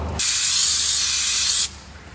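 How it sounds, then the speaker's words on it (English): Brake cleaner sprayed onto a driveline part of a 2004 Toyota 4Runner: a single loud, close, continuous aerosol hiss lasting about a second and a half, starting and stopping abruptly. "I'm gonna hit that with a little brake clean to clean it up"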